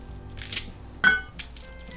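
A pellet is picked out of a tin of Premier air gun pellets, making a few faint, sharp metallic clinks and taps, spaced apart in an otherwise quiet room.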